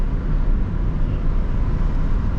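A car driving in second gear along winding hill roads near Ooty, its engine a steady, loud low rumble with road noise throughout and no pauses.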